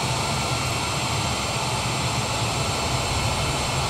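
Airliner engines roaring in reverse thrust in Microsoft Flight Simulator 2020, a steady loud broadband jet rumble with a low throb, continuous throughout with no voices.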